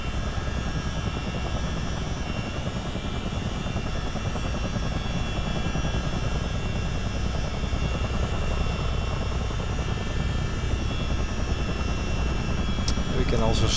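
CH-47D Chinook helicopter engines and rotors running steadily in a motion simulator, a dense continuous drone with a low hum, with a voice speaking over it throughout.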